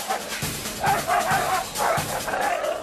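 Several dogs on a Hong Kong street bark and yip in quick, overlapping bursts, close and fairly loud, with some whimpering between barks.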